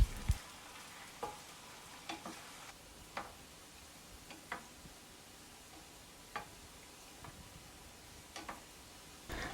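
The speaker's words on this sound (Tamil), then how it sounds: "அதுக்குள்ளே உருண்டை பிடிச்சி வச்சுருக்க ரவையை போட்டு பொரிச்சு எடுத்துக்கொள்ளுங்க" Rava gulab jamun balls deep frying in oil give a faint, quiet bubbling fizz, punctuated at irregular intervals by light ticks and taps, probably from a spoon turning them.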